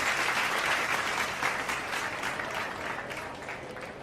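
A baseball stadium crowd at a Mariners–Dodgers game claps and cheers in a steady roar that slowly eases off over a few seconds, with no clear talking.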